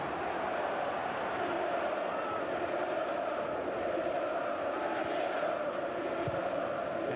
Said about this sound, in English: There's no way the players can hear them either with this noise. Jam-packed, capacity crowd.